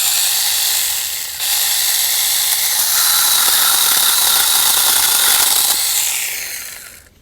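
Close, loud hissing buzz of an ASJMREYE 6-inch battery mini chainsaw biting into a tree limb, running steadily for several seconds with a brief dip before winding down at the end.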